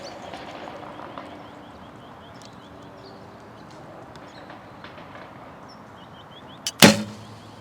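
An arrow loosed from a bow fitted with a Steady aim during outdoor archery practice: one sharp, loud snap and thump near the end, after several seconds of quiet open-air ambience with faint birds.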